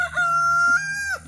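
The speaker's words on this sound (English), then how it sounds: "the chickies are excited, the golden Wyandotte chickens" A golden Wyandotte rooster lets out a single close, clear crow that holds a steady pitch and drops off at the end.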